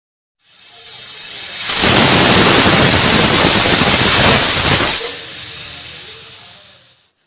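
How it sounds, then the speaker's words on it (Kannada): A pressure cooker boiling potatoes in water vents steam: a hiss swells into a loud, sustained shrieking whistle for about three seconds, then eases back to a softer hiss and stops, heard alone and up close. "ಕುಕ್ಕರ್ ಲೆಡ್ಡನ್ನು ಕ್ಲೋಸ್ ಮಾಡಿ ಒಂದು ವಿಷಲ್ ನೀವು ಕೂಗಿಸ್ಕೋಬೇಕಾಗತ್ತೆ"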